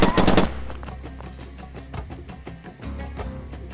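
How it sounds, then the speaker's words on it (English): Machine gun firing in the video game Far Cry 2, a loud opening burst followed by a rapid, steady series of automatic shots continuing over a low rumbling background. "Machine gun."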